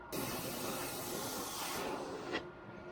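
An airbrush sprays base coat paint onto a fishing lure, giving a steady close hiss for about two seconds before the air cuts off.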